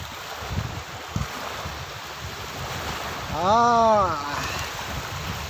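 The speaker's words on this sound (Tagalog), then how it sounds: "So, ang sarap ng hangin dito." Wind rushes steadily at a seaside beach resort on the Gulf coast at Half Moon Bay in Dhahran, blending with surf in a constant roar while a brief voice-like tone rises midway.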